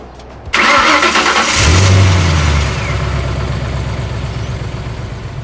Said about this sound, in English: I'm going to drive it for the first time with the exhaust